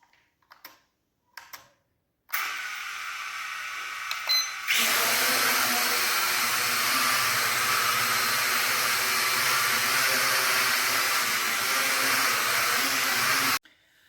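A cheap camera drone bought from AliExpress, flown in a test. A few clicks and a short, quieter hum lead into a loud, steady, high-pitched propeller whine that runs close by and then cuts off abruptly.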